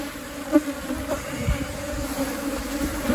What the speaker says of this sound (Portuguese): Um enxame potente, pai.